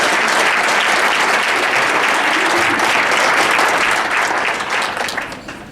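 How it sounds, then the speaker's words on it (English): Loud, dense applause from the audience at a high school volleyball banquet for the seniors, sustained for several seconds and then tapering off at the end. "just give them a round of applause for all of them"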